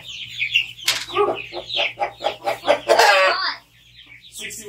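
Young chicks moved into a new coop cluck and chirp in quick, close bursts, with a short quieter pause near the end before more calls.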